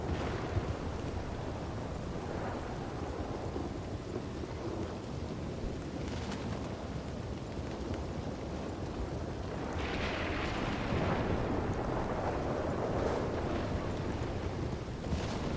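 A storm in the Red Dead RP western role-play game sends steady heavy rain hissing down, with deep rolling thunder rumbling underneath and swelling louder about two-thirds of the way through, continuous and without speech.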